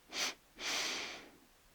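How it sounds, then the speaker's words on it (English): A person sniffs breath in through the nose during a gentle somatic yoga session: one short sniff, then a longer, steady airy inhale, close and quiet, with no talking. "sniff the breath in through your nose"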